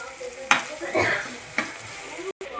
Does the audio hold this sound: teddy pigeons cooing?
no